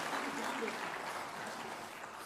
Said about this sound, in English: I once again request a round of applause